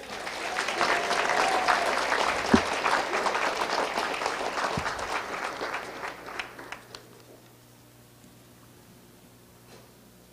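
Warm audience applause for award recipients at an education foundation academic awards ceremony, dense clapping that swells, then thins out and fades to near silence.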